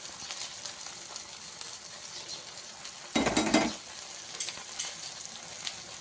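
Ridge gourd and crushed garlic frying in a pan give a quiet, continuous sizzle, with a louder burst of stirring midway and a few light clinks of a utensil against the pan.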